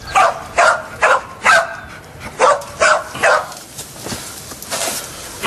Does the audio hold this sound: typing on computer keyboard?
no